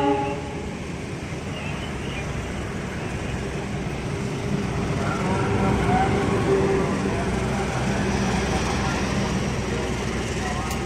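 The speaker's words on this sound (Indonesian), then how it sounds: "Wah, ada kereta api jarak jauh." Argo Muria long-distance train rolls through Manggarai station with a steady low rumble and wheel noise that swells slightly midway, heard nearby amid the station's ambience.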